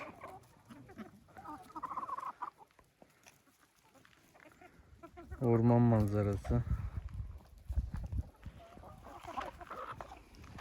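Chickens eating bread and rice cluck and chatter nearby in short bursts, with a louder squawking burst midway, while a person talks intermittently.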